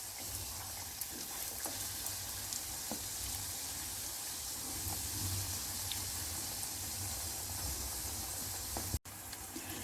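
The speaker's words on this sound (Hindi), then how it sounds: "मीडियम टू लो फ्लेम पर समोसों को गोल्डन कलर आने तक फ्राई करेंगे" Samosas deep-frying in hot oil over a medium-low flame, giving a steady, soft, continuous sizzle with a few faint pops and one sharp click near the end.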